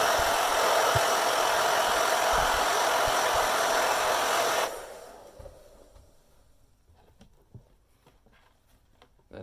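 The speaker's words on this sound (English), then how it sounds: "take your hairdryer, and you're going to want to heat up the area that you just dubbed." A steady hair dryer roars loudly for about five seconds heating dubbing on roughout leather boots, then cuts off, leaving quiet handling noises and soft taps.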